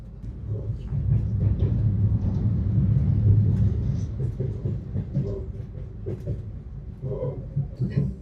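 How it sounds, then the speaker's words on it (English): Moscow metro train riding along underground track, a steady low rumble with faint rattling and clatter of the carriage, continuous and fairly close, no talk. "You see how empty the train is today."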